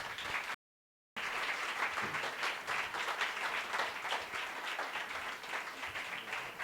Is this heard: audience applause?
yes